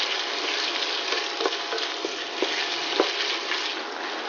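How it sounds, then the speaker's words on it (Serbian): Bacon and softened onion fry together in a pan, giving a steady, moderate sizzle. A few soft ticks and spatters stand out over it, and no voice is heard. "sada dodajemo 200 g slanine i to ćemo pržiti sve zajedno 5 minuta"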